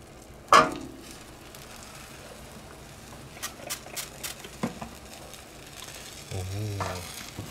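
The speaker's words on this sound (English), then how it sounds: "Ooh, hear that sizzle." Breakfast burrito filling sizzles in a frying pan, with a sharp hiss at the start, then scattered crackles and pops and a brief scraping stir near the end, fairly faint overall.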